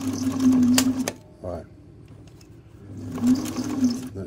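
A Singer Model 527 sewing machine runs in two short bursts of whirring stitching, close and fairly loud, separated by a quiet pause with a brief clunk.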